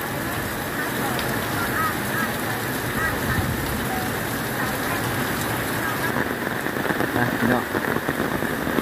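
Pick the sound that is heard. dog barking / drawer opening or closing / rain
rain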